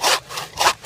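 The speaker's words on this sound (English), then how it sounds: "She saws really nice." A Zippo bow saw cuts through wood in quick, rasping back-and-forth strokes, about three close, loud scrapes in under a second, with no voices.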